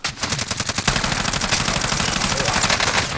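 Rapid automatic gunfire from a video game, loud bursts in a fast, even rhythm that rattle on continuously for a few seconds with no voices.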